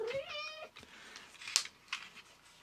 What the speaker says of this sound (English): See, the cat's going to be relentless.